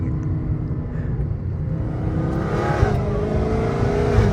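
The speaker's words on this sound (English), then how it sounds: "I'm just driving around a bunch of neighborhoods just warming up the engine" A Dodge Hellcat Redeye with titanium exhaust cruising through neighborhood streets while warming up, its low engine rumble steady and close, swelling slightly with light throttle.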